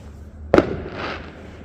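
A single firework bang, a sharp close crack followed by a brief crackling rumble that fades within a second.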